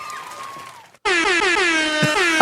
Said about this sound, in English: Fair enough that you would like the air horn